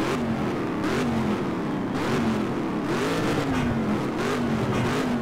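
A Ford GT engine revving and accelerating in the NFS Shift racing game, a steady loud drone that rises and falls through gear changes, with a supercharger whine riding over it and no talk.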